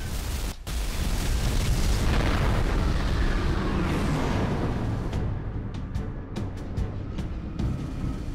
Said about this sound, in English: Whoa, that's an explosion and a half.